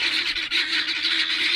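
Guinea fowl on a permaculture farm call loudly and continuously, a dense harsh chorus of close, steady cries with no pauses and no talking.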